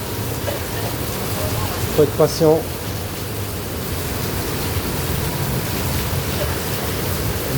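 Heavy downpour in a street, a steady broadband hiss of rain running throughout, with someone speaking briefly near the middle.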